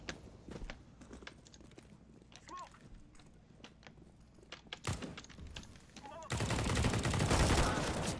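Sniper rifle shot in an online video game, with sharp gunshot transients scattered among other game noise and a loud burst of sound near the end, heard under intermittent voice chatter.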